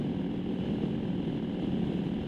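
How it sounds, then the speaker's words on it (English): A motorcycle engine fitted with a rebuilt Mikuni carburettor, running homemade jets, idles with a steady, even low rumble close by. The throttle is only tickled lightly, so the revs stay low with no backfiring. "if I just tickle the throttle at the bottom, the bike is happy"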